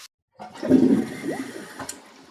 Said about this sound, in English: It's got no flushing power.